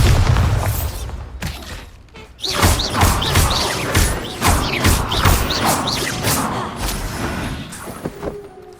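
In Hogwarts Legacy, a Bombarda spell explosion booms amid battle, followed by a cluster of rumbling crashes and magical impacts that keep going in a loud, busy string.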